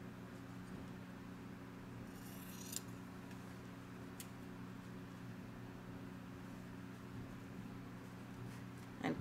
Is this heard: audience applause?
no